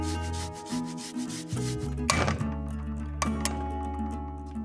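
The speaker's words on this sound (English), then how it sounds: "I'm going to grate in quite a lot of fresh ginger, about 30 grams, 25 grams" Fresh ginger rubbed against a grater for Christmas gingerbread, a close scraping rasp that pauses and resumes, with a couple of sharper clinks, no talking.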